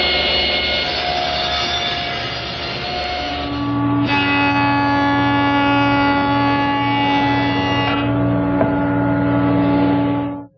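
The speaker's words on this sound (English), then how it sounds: "and then run it again through the joiner" A woodworking jointer runs with a steady, loud motor whine and a sustained machining drone as a board's edge passes over the cutterhead, the pitch shifting slightly as the cut proceeds and then stopping abruptly at the end.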